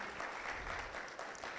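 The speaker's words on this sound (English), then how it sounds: "Another round of applause for our panel today" Audience applause for a panel at a Texas business and legislative-update event, a steady wash of clapping that holds evenly through the short stretch, moderately distant and fairly quiet.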